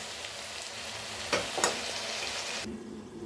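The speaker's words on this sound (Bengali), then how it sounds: "এখানে সবজিগুলো কষাচ্ছি।" Mixed vegetables sautéing in a pan for vegetable khichuri, a continuous close sizzle with two brief scraping stirs in the middle before the hiss drops off sharply near the end.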